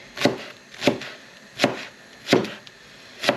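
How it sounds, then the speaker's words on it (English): Onion stalks are chopped with a knife, five crisp, evenly spaced cuts striking a board close by, each a sharp thud with no talking. "I'm going to use some of the onion stalks that just came off them onions, and just cut these down a little bit"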